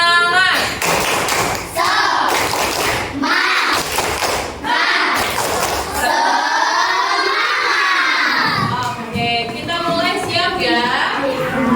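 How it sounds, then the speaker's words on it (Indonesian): A group of children in a classroom claps a rhythmic spirit clap, quick patterned hand claps mixed with shouting and cheering voices, loud and close, with talk around it. "Gimana kalau tepuk semangat dulu?"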